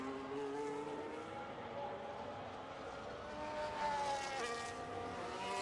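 Mercedes Formula 1 car in a racing video game at Monaco, its high engine whine holding steady through the swimming pool section, a continuous loud drone with faint tyre noise and a commentator talking over it.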